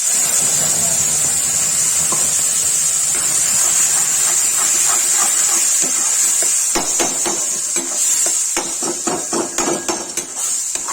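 Tomato, onion and garlic sizzle in hot oil for bitter gourd curry, a steady bright hiss that runs throughout, joined in the second half by clinks and scrapes of stirring.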